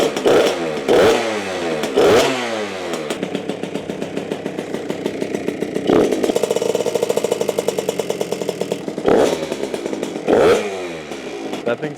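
Suzuki RM65 mini supermoto two-stroke engine running close and loud, idling with a rapid buzzing rattle and revved sharply several times in bursts spaced a few seconds apart.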